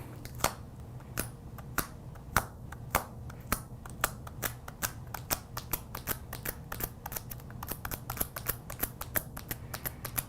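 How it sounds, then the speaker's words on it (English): Painter's tape dabbed up and down on a notebook cover to lift stray gold foil, a steady series of light, sharp tapping and peeling ticks, close and fairly quiet. "we're gonna dab up and down and remove all the extra gold foil pieces"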